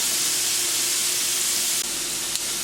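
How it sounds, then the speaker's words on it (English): Steady loud hiss and crackle of salmon nuggets deep frying in hot oil, continuous and close, with no voices. "because again they're deep frying, and so everything should cook"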